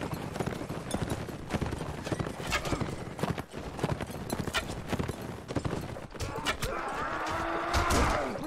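Galloping horse hooves from the video game Mount and Blade: Warband, a rapid, steady clip-clop drumming throughout amid battle noise, with occasional whinnies and faint voices mixed in.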